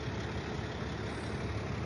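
A pickup truck engine hums steadily while hauling three other pickups on a mountain road in the US, a constant broadband drone with no pauses.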